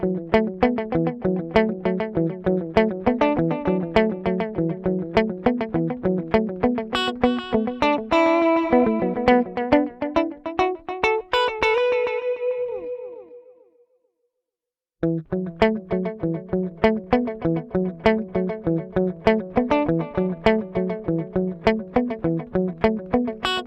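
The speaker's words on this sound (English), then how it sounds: "So here's the transistor tape." An electric guitar plays through the transistor tape echo of a Line 6 HX One, with repeating notes that bloom and decay into a swirling wash, a short silence, then steady picked phrases.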